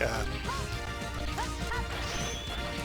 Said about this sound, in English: That was the sound of an ice block.